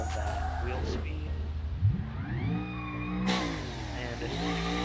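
A car engine in BeamNG.drive revs and climbs through the gears while drifting, pitch sweeping upward in steady harmonic whines with a sharp jump near the end, loud and continuous under a voice talking throughout.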